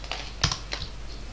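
Quick keystrokes on a computer keyboard as a command is typed, three or four soft clicks close by in a quiet room.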